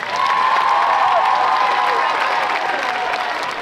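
Loud, sustained applause and cheering from a packed crowd at a state competitive cheerleading championship, greeting a team with steady clapping and scattered shouts that hold at full strength throughout.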